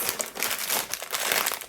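A plastic bag of cashew nuts is handled close up, giving a continuous rapid crinkling and rustling with no talk.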